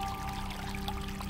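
Water trickling into a bowl while a sauce for steaming Teochew fish with salted plum is prepared, a short, steady close pour over a faint background hum, with no one speaking.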